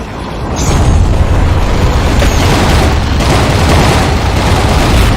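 A destroyed target in the underwater combat game Aquanox goes off in a loud, deep explosion. The sustained rumbling boom swells quickly and rolls on heavily without fading.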